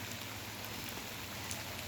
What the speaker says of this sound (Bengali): খুবই ঝিরিঝিরি বৃষ্টি পুরো সপ্তাহ জুড়ে